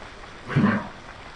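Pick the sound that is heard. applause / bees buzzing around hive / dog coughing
dog coughing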